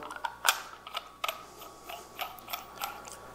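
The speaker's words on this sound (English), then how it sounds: "And all we do is we just screw this on." A chuck assembly is screwed onto a small lathe for bottle stopper turning, producing soft close ratcheting clicks and metallic ticks in an uneven rhythm, quiet with no talk.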